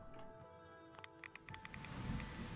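Steady rain falls in the Fallout 4 video game, a soft continuous hiss mixed with low rumbling, with a few brief light taps scattered through.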